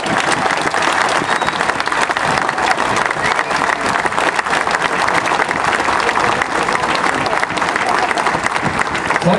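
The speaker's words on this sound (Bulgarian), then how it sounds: "аплодисменти за Станислав Дянов!" A stadium crowd applauding as a Botev Plovdiv football player is introduced, loud continuous clapping from many hands with a background murmur of voices.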